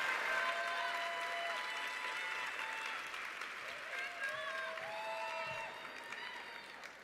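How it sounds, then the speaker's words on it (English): Sustained applause from a theatre audience at a Playhouse Square Broadway Series lineup announcement, steady and fairly even throughout, with some whistles or cheers, fading slightly near the end. "Give him a huge round of applause."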